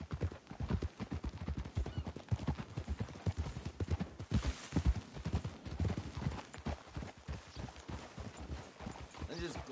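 A horse's hooves clip-clop steadily on the ground in Red Dead Redemption 2, a close, continuous walking rhythm heard under spoken dialogue.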